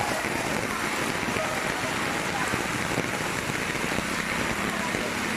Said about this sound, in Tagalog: tuloy ang buhos ng ulan